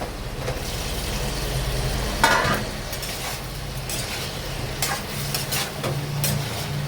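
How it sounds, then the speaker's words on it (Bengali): Previously fried cauliflower florets are stirred into a sizzling pan with a little water. A steady frying hiss runs under scraping spoon-against-pan strokes and occasional clatter, close up with no talking. "এবার এর মধ্যে ফুলকপিগুলো দিয়ে দেবো, ভেজে রাখা ফুলকপি।"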